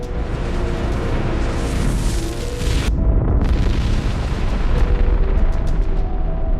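A huge explosion in an animated series booms with a loud, roaring blast and deep rumble, cuts off abruptly midway, then continues as a heavy, rolling roar with scattered crackles.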